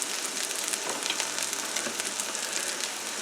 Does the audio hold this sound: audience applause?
no